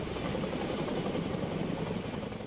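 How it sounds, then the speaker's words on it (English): A military helicopter flies aid to isolated villages near an earthquake epicenter in Morocco, its engine and rotor making a loud, steady, close drone that holds unbroken with no speech. "Military helicopters are flying aid to isolated communities near the epicenter."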